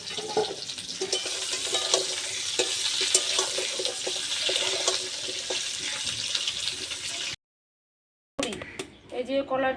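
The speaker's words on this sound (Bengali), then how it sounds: "এবার আমি এই বাকি সবজিগুলো ভেজে নেব। বেগুন, কাঁচকলা" Eggplant, green banana, papaya and sweet potato frying in oil in a home kitchen, a steady close sizzle with scraping and clatter, cut off by a brief silence before further clinks and cooking noise.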